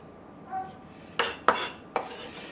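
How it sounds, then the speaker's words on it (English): Grated Parmesan going into a food processor: a soft rustle, then three sharp clinks and scrapes against the plastic bowl, close and distinct with quiet between them. "Just gonna add all that Parmesan into the same food processor."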